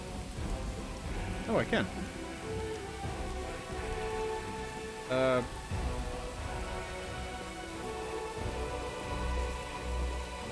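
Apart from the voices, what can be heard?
rain at camp in video game Pathfinder: Wrath of the Righteous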